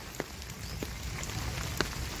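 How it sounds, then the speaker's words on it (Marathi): Light drizzle beginning in Sindhudurg on the Konkan coast, soft scattered raindrop taps over a faint, even hiss, quiet and close, with a few slightly sharper drops standing out. "रिमझिम पावसाची सुरुवात"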